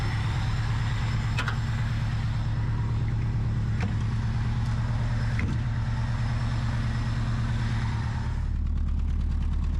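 Vintage Rolls-Royce engine idling with the hood closed, a steady low rumble throughout, close and loud, with a few faint ticks and knocks over the top.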